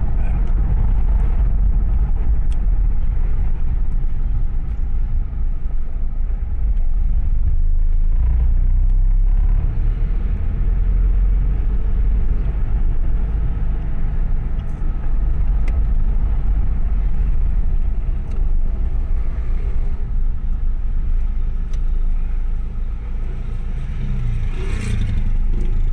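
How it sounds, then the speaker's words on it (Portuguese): City street traffic rolls by continuously, a loud, steady low rumble of cars with occasional clatter and engines revving as they pull away, close and unbroken for the whole stretch. "Bastante trânsito, né?"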